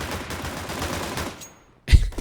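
Dual Berettas firing in Counter-Strike on Mirage: dense rapid pistol shots crackle steadily, fade to near silence, then one loud close shot bursts out.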